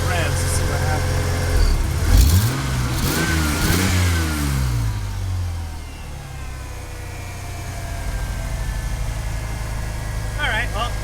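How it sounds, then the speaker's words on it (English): A 1993 Ford F-150 engine with a fuel leak revs hard a few times, climbing and falling in pitch, then settles back into a steady low idle. The revving is close and loud throughout. "I'm gonna give it a few revs to see what happens."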